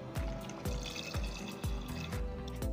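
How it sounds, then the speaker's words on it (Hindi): Water is added to mutton korma cooking in a pressure cooker, heard as soft liquid splashing and pouring with a series of regular low thumps beneath, close and fairly quiet. "चलाने के बाद अब हम इसमें ऐड कर रहे हैं पानी"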